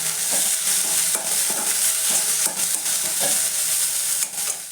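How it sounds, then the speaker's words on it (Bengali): Lote fish sizzle in hot oil in a pan, a constant loud frying hiss broken by scraping stirs at irregular intervals, with no voices. "লোটে মাছগুলো প্রথমে হালকা করে একটু ফ্রাই করে নিয়েছে"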